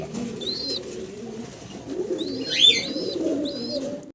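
Khaki pigeons coo nearby in short, repeated throaty calls over a soft, low rumbling background.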